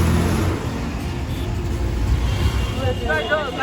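Road traffic in a congested jam, as heard from an electric rickshaw (toto), with a close engine rumble, passing vehicles and a horn near the end.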